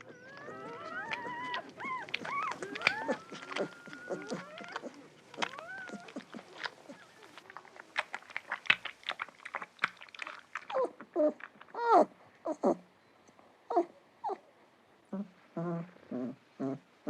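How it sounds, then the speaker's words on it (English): Newborn wolf pups nursing in a den shortly after birth, with many thin high whimpers, squeals and squeaks overlapping in busy bursts, close and moderately loud, later thinning into short separated yelps and snuffles. "Within an hour of the birth, the pups are nursing."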